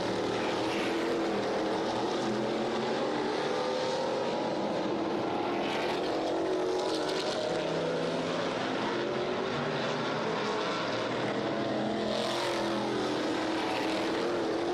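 Race cars lapping at Hudson Speedway during a live short-track event, a dense, steady engine roar that stays loud throughout with brief surges as cars pass, recorded from a distance with no clear talking.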